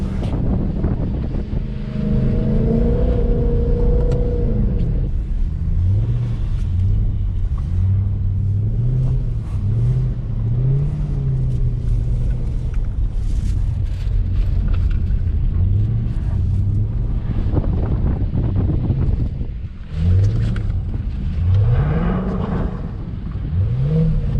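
A Mercedes C63 AMG drifting on a snowy winter road at night, its engine rising and falling in repeated revs under a constant roar of wind and road noise, heard from inside the car.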